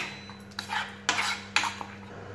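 A spoon scraping and clinking against a bowl while mixing chutney, three distinct strokes with brief metallic scrapes between them, close and fairly quiet over a low steady hum.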